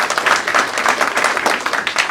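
Audience applause at a Bhojpuri film success party, dense steady clapping from a crowd filling the whole stretch with no talk over it.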